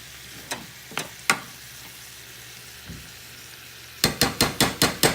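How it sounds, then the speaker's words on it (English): Spoon scraping and knocking in a pot of Chipotle-style copycat food with bay leaves, a few scattered taps early, then a quick run of six sharp evenly spaced knocks near the end. "I'll stir that around"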